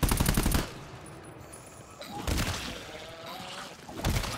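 Automatic weapon fire in the co-op shooter GTFO, loud rapid bursts at the start, in the middle and at the end, separated by quieter stretches.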